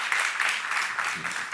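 Congregation at a church seminar clapping, a fairly faint but steady patter of applause heard from some distance, with a brief voice cutting in partway through.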